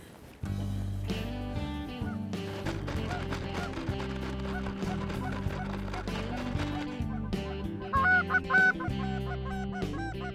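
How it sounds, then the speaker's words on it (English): Geese honk repeatedly over a dense, steady background, their calls layered and continuous, with a few louder honks near the end. "Hey, there's some more geese right there."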